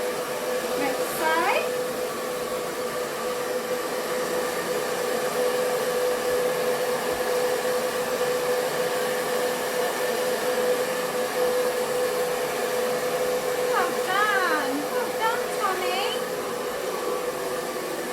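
A hair dryer blows steadily on a dog after its bath during grooming, a continuous loud whir that runs the whole time, with faint whining or vocal sounds rising briefly near the start and again near the end.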